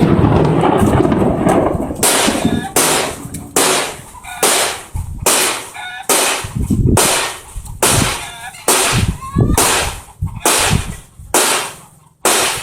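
Repeated sharp thunder cracks during an EF2 tornado in Macabebe, Pampanga, Philippines, booming loud and close in a fast irregular series of about a dozen bursts over steady wind and rain roar.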